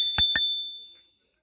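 Two quick rings of the handlebar bell on a SOFLOW electric scooter, close and bright, followed by a lingering metallic ring that fades out over about a second.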